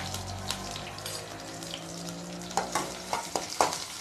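Onions tossed with mustard seeds into hot oil in a pan for Tamil egg gravy, sizzling steadily up close, with several sharp crackles and pops toward the end.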